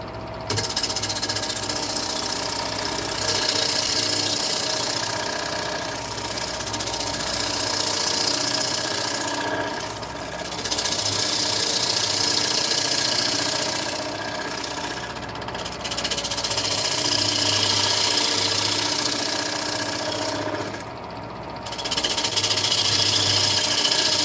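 A wood lathe spins steadily while a gouge rides the bevel, cutting with a continuous loud whirring drone that swells and dips over several passes.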